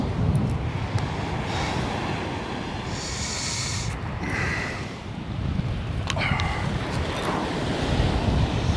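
Strong wind buffets the microphone on an open beach at Sutton on Sea during sea fishing, a steady roaring rush with surf breaking underneath, loud and continuous throughout.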